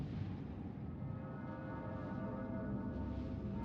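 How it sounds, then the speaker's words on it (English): A sustained, faint bell-like tone with steady ringing overtones sounds in the Persona 3 Reload video game, with no speech. "It sounds like a bell, but where's it coming from?"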